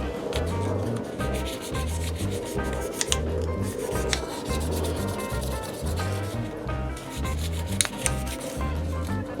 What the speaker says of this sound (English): We're going to scuff the tubes up a little bit, just to give it a little bit of extra hold with the glue.